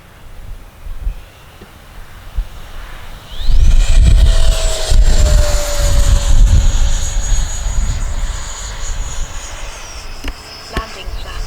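An FMS F-18F 70mm RC jet sweeps past, its ducted-fan whine swelling sharply from a quiet start into a loud, close roar that then slowly fades with a falling pitch, while wind buffets the microphone.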